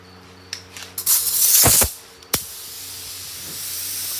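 A Matco spray gun sprays watered-down black paint onto a metalflake lowrider panel in short hissing bursts. The strongest blast comes in the middle and is followed by a sharp pop of air, over a steady background hum.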